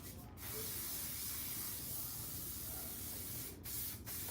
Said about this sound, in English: Going in with my Sebastian spray.